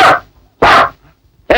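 A man in a Telugu action film scene imitates a dog's bark with his voice: three loud, short, barking bursts, close and evenly spaced, with brief quiet gaps between them.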